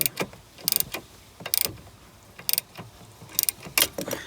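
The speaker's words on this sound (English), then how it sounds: "So using a T45 Torx bit, I am removing one of this." Ratchet with a T45 Torx bit loosening bolts on the steering column of a 2010 Ford Escape: short bursts of quick metallic clicks repeat at roughly one-second intervals, close and crisp, with no talk.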